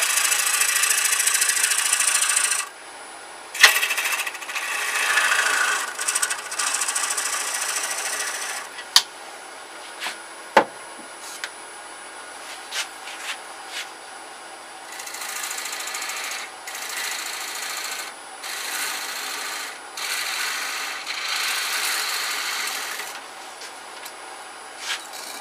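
Big gouge roughing out a natural-edged holly wood bowl on a lathe, a loud continuous cutting chatter that drops away briefly, then returns with sharp ticks and intermittent bursts.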